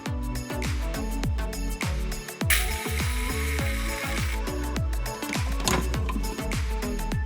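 Food processor motor running on dates, walnuts and honey, chopping them into a thick paste; a loud, close, continuous whir with rhythmic knocking as the chunks hit the blade and bowl.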